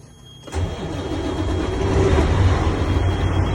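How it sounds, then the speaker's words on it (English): A Class A commercial truck engine cranks and catches, then settles into a steady, rumbling idle nearby that grows slightly louder. "So now I'm gonna go ahead and start the truck."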